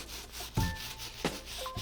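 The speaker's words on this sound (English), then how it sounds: "use the stiff bristle brush to hit the midsoles and the soles" A stiff bristle brush scrubbing the midsoles of Nike Air Max 1 Parra sneakers, close rasping rubbing strokes with a few sharper scrapes at irregular intervals.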